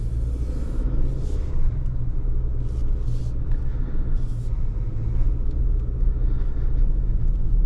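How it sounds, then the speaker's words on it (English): A 2023 GMC Canyon AT4X pickup with a turbocharged four-cylinder engine drives along, heard from inside as a low, steady rumble with road noise and occasional faint higher swells, moderate in level and without talk. "Let's go for a drive."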